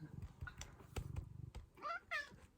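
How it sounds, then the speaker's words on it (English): A cat meows twice, close by, after a few soft taps and rustles. "That's my cat."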